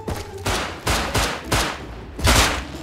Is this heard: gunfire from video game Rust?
yes